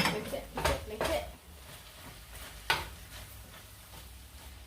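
Chicken being stirred in a pan at home, producing a few clattering scrapes and clinks of utensil against cookware amid a low background, with a voice speaking briefly between the stirs.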